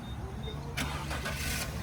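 A 30-year-old BMW sedan's engine cranks and catches, then settles into a steady idle close by after a short quiet stretch of background noise.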